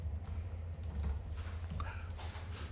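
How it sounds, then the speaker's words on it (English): Someone types on a computer keyboard in a podcast studio; soft, scattered key clicks sit faintly over a steady low electrical hum. "He was typing on his computer."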